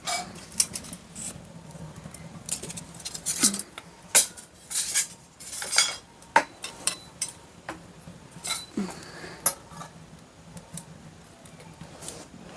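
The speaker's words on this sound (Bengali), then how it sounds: "উনুনটা এবার আমি ধরিয়ে নিচ্ছি। এবার কড়াটা বসিয়ে দেব।" A metal wok (kadai) being set onto a lit stove while making carrot halwa: a series of sharp metallic clanks and knocks, irregular and close, with quieter rattles between them and no talking.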